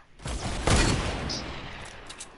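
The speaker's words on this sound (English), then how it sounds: "I headshotted one with the hunting rifle, and he's knocked." A hunting rifle fires a single loud, close headshot in a battle royale video game, a sharp crack with a rolling boom that fades over a couple of seconds.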